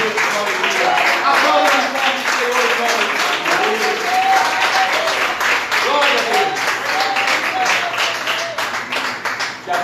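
A church congregation applauds together through the full stretch, broad and sustained clapping with a few voices calling out over it, fairly loud and steady before thinning slightly at the very end.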